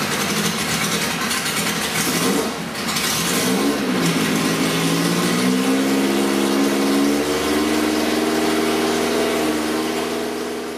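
Lola T492 race car engine running loud and close with the throttle worked, a rough drone that shifts and rises in pitch partway through and then holds a steady, higher note.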